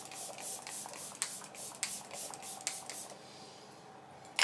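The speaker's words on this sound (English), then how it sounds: "been spritzing your face for quite some time" Repeated short hissing bursts of a facial mist spray being spritzed onto the face during a makeup routine, about five quick close puffs, soft and alone.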